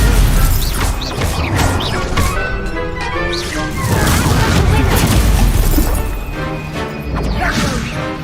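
A Stupefy spell fires during combat in Hogwarts Legacy, a sharp magical burst amid crashing impacts, whooshes and clattering debris, with a player voice calling out spells over the steady loud fight noise.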